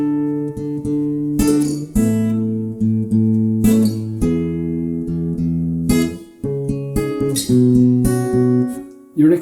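Plucked acoustic guitar chords ring out one after another, each left to sustain briefly before the next, clear and close with no talking.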